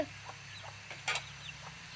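A native country hen clucks indoors in short, soft bursts against a steady background hum, with one slightly louder cluck near the middle.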